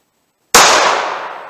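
A single sharp gunshot from a .38 Special snub-nose revolver firing 170-grain lead semi-wadcutter bullets, loud and close, cracking out of silence and ringing off into a long decaying tail.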